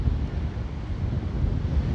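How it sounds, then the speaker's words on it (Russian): Strong wind buffets the microphone on a wide sandy beach at Narva-Jõesuu, Estonia, a loud steady low rumble with surf mixed in and no talk. "Наверное, сейчас очень шумно из-за ветра."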